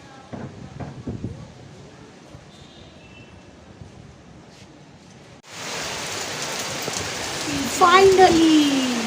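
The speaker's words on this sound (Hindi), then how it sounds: "फाइनली बारिश शुरू हो गई है" Rain suddenly starts falling after a hot spell, switching from quiet outdoor ambience with faint sounds to a steady, loud hiss of rainfall; a voice is briefly heard near the end.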